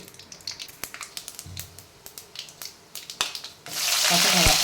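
Mustard seeds tossed into hot oil for a potato masala crackle with sharp, scattered pops, then break into a loud, steady sizzling hiss at the end.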